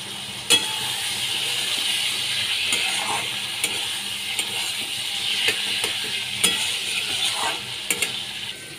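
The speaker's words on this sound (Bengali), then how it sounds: "আগে থেকে ভেজে রাখা আলুগুলো আমি এর মধ্যে দিয়ে দিলাম।" Pre-fried potatoes are stirred into a bubbling prawn curry in a hot pan, a steady close sizzle with occasional sharp scrapes and taps of a spoon against the pan.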